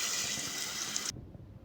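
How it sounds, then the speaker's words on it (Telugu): Water gushes steadily into a pot of cooking mutton curry for about a second, then stops abruptly, leaving faint background noise. "ఇప్పుడు కొద్దిగా నీళ్ళు పోసుకుందాం."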